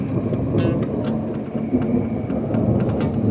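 Steady heavy rain hisses through an intense lightning storm, with low rumbling thunder rolling beneath it and scattered sharp crackles, loud and continuous.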